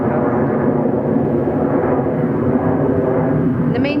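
An airplane flying past overhead makes a loud, continuous rumbling roar that stays steady throughout, with no voices over it.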